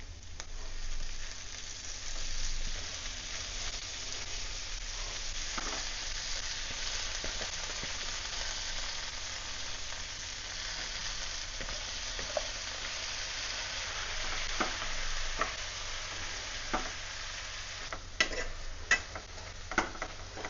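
Mint leaves sauté in a hot pan for mint chutney, giving a steady, soft sizzle and fry hiss throughout with occasional light stirring ticks near the end, no voices.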